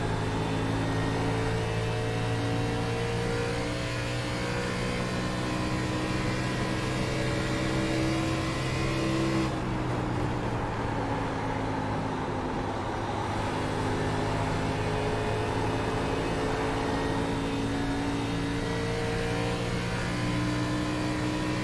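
An ARCA series race car in a sim racing game revs continuously, its engine tones rising and falling with a clear gear change midway, loud and steady with no talking.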